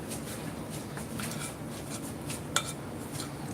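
Banana fritter batter is mixed in a bowl, with a utensil scraping and clinking softly against the sides in a steady, close rhythm and one sharper knock near the end, with no talk.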